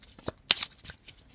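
Oracle cards being shuffled, a short close run of a few quick papery riffles and flicks, soft and alone.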